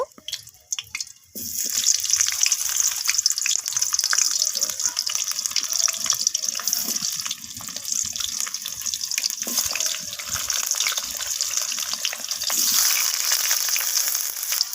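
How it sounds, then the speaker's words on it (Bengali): Cut potatoes drop into hot oil in a wok, bursting into a loud, bright sizzle that holds steady and dense for the rest of the time, alone without talk. "তো এই তেলের মধ্যে কেটে রাখা আলুগুলোকে দিয়ে দেব"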